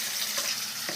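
Cumin and mustard seeds crackling in hot oil, a soft steady sizzle with faint spattering pops, brief and close without voices.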